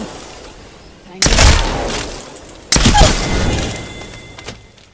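Two loud bursts of gunfire in the Apex Legends video game, each followed by a rumbling decay, arriving about a second and a half apart, with game voice lines faintly in the background.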